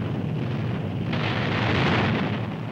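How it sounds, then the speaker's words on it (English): Torpedoes striking the aircraft carrier Yorktown in World War II combat footage: a sustained, loud, roaring blast of broadband rumble that swells toward the end, with no voices. "Then the Japanese torpedoes come in."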